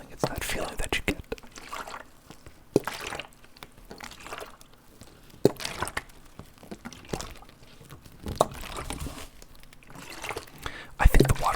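Close-miked ASMR water sounds: soft drips, trickles and wet liquid noises that recur in brief bursts, mixed with faint whispering and mouth sounds against a quiet background.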